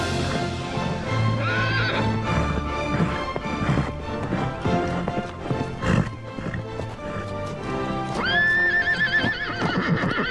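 A horse whinnies loudly twice, near the start and again at the end, over steady clip-clopping hooves at close range, with no clear speech.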